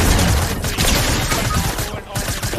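Rapid infantry rifle shots in a Fortnite solo World Cup finals match, loud and dense crackling bursts running almost continuously under an excited commentator's voice.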